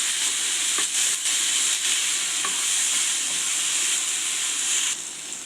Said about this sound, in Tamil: தக்காளி 1 கட் பண்ணி வச்சுக்கிறோம், அதை சேர்த்துக்கலாம். இதையும் சேர்த்து நல்லா வதக்கிக்கலாம்.